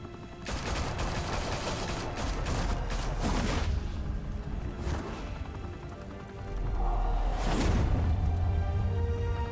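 Sustained gunfire and explosive crashes in Batman: The Telltale Series, a dense loud volley running through the clip with sharp bursts and whooshes over a heavy low rumble.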